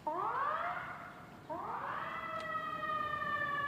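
Emergency sirens pass outside during a school board coalition meeting, two rising wails sounding faint and distant, with no talking over them.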